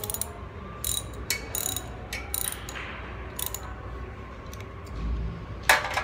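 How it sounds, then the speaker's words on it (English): An ignition coil bolt being tightened on a Honda GX390 engine, with a series of quick ratcheting clicks in bursts, close by and fairly crisp, and a louder click near the end. "and then I'm gonna snug up the bolt."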